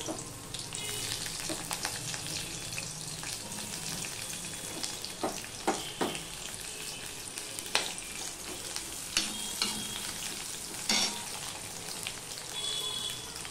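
Chopped onion and green chilies hit hot oil with nigella seeds in a pan, giving a steady close sizzle and crackle with occasional stirring clinks, no talking.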